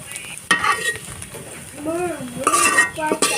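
Bitter gourd and potato fry in a pan with a soft, continuous sizzle, broken by a few sharp clinks and scrapes of a utensil stirring against the pan.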